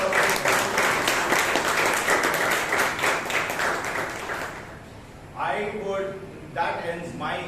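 Dense, loud applause from a Toastmasters meeting audience in Bangalore fills the room for several seconds, then stops abruptly, and a person begins speaking.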